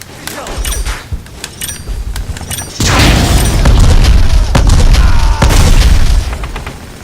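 A grenade blast in the shooter game Black, a sudden loud boom that cuts in partway through and leaves a heavy, rumbling roar for several seconds before fading, following quieter game sounds.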